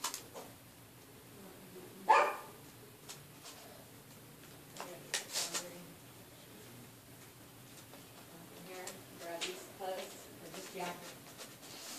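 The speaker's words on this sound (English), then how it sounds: "So, that was just my dog." A pet dog barks indoors during a paper airplane and blow gun craft session: one sharp bark stands out, followed by a few softer barks and yips over a steady background hum.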